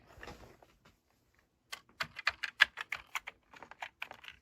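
Keys clatter on a restored Dell QuietKey computer keyboard in a quick, uneven run of close, crisp clicks, following a few softer scattered taps at the start.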